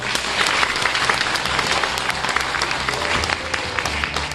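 A crowd at an apartment residents' meeting applauds steadily, many hands clapping together in a full, continuous wash that stays fairly loud throughout.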